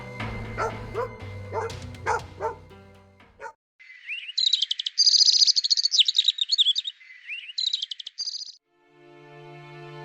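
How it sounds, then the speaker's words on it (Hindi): Sharp barks and yips from a dog, followed by a busy stretch of high chirping calls, then a sudden quiet with faint tonal sound. "बाहर गांव में कुत्ते जोर जोर से भौंकने लगते हैं।"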